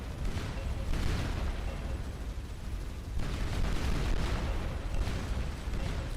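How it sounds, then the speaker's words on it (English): Dense overlapping explosions from the space game Starcom: Nexus, a continuous loud rumbling barrage with repeated bursts swelling and fading in waves, slightly distorted, with no talking. "When there's a lot of explosions at once, the game audio gets a little funky."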